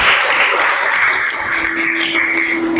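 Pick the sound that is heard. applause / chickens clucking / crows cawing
applause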